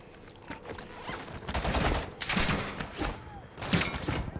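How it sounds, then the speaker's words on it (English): Gunfire in Call of Duty Modern Warfare II on the Al Mazrah map, including a sniper rifle: several sharp, loud shot bursts spaced a second or so apart stand out over a busy, rumbling battle background. "Oh, that was a sniper that shot me."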